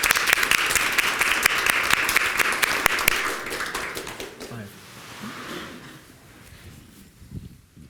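An audience claps enthusiastically for a few seconds, then the applause thins out and fades away to quiet room noise.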